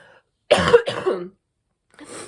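A couple of harsh, close coughs in quick succession, followed after a pause by a softer throat-clearing cough.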